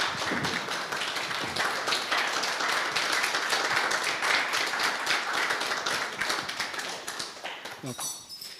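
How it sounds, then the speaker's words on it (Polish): Brisk clapping from a conference audience of firefighters, loud and close, dense rapid claps running continuously before tapering off at the end, with some voices mixed in. "Wielkie brawa poproszę"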